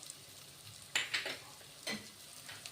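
A spoon scrapes and stirs in a pan as cumin powder and spices go into frying bhogi vegetables, a few distinct stirring strokes over a faint, quiet sizzle.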